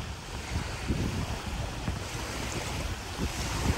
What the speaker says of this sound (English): So strong windy.